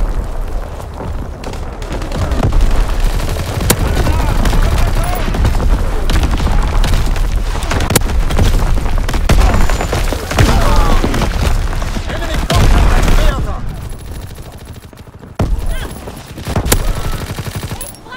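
Heavy artillery barrage in the Call of Duty: WWII multiplayer map Shipment 1944, a dense run of booming impacts and rapid gunfire layered over one another, loud and sustained with a brief lull before a few more blasts.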